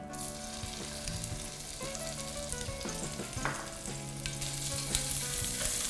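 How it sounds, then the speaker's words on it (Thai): Pounded curry paste stir-fries in hot oil for crispy pork with chili and ginger, a constant close sizzle carrying soft stirring scrapes and faint hum, without talk. "ผัดให้หอมเลยนะคะ อย่าใช้ไฟแรงมากนะคะเดี๋ยวพริกแกงจะไหม้"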